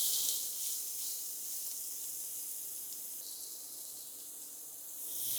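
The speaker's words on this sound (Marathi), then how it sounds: "कांदा परतून घेऊया" Chopped onions sautéing in a pan for Maharashtrian kurdai bhaji give a steady, soft hiss and sizzle that holds evenly throughout, with no talking.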